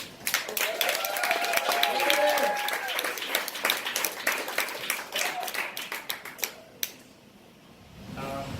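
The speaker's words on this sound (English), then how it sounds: "Let's give him a round of applause." An audience at a stand-up comedy show applauds a comedian taking the stage, dense clapping swelling and then thinning into scattered claps before fading to near quiet.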